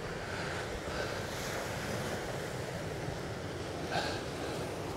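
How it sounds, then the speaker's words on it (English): A steady roar of surf rolling onto a shore, with wind buffeting the microphone throughout and a brief louder splash near the end. "as I'm pretty sure you can hear by the waves crashing in"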